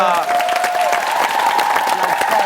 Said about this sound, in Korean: 어머님에게도 감사의 박수 부탁드리겠습니다